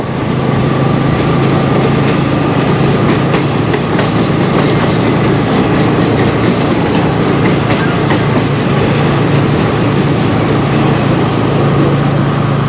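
A train rumbles past very close and loud on tracks alongside the Farakka crossing, wheels clattering rhythmically over the rails in a continuous, heavy roar with no pauses.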